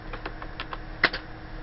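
Quick keystrokes on a computer keyboard, a short run of crisp close clicks followed by a louder double tap.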